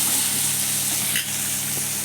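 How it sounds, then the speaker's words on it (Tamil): Peas and mixed vegetables sauté in hot oil for a cauliflower gravy, giving a loud, dense, even sizzle that stays close and constant through a brief moment. "அதையும் போட்டு எண்ணெயில் கொஞ்சம் வதக்கி வச்சுக்கலாம்"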